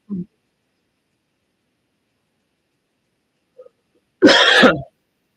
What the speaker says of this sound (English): how many times I can cough on camera